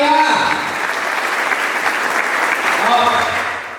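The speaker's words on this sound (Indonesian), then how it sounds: "Beri tepuk tangan yang meriah." An audience gives loud, sustained applause, a dense roar of clapping that carries on for several seconds, with a voice briefly heard near the start and again toward the end.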